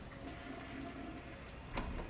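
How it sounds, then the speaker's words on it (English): A toilet flushes in the background of a tense film scene, a faint continuous watery rush with a brief louder surge near the end, no voices heard. "he has a toilet flush in the background"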